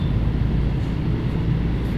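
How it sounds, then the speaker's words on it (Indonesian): Heavy sand trucks passing along a town road near Muntilan, a steady low rumbling engine and tyre drone that holds loud and continuous, with no voices. "truk-truk ini"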